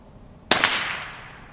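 A single loud, sharp gunshot fired at a quarter stick of dynamite in a backyard, cracking suddenly out of near silence and ringing off in a short tail.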